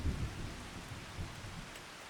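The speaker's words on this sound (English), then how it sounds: "well, it looks like it's raining" Rain and thunder from a Farming Simulator 25 game, with a steady wash of falling rain and low rumbling thunder swelling at the start and again briefly midway, fairly quiet and without voices.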